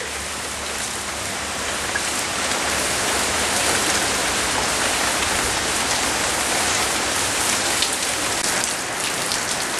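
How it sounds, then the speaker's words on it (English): Steady rain falls outdoors at a home as a storm sets in, a dense, even hiss of drops striking surfaces, loud and unbroken from start to finish with no voices. "starting to rain here, the wind's starting to blow."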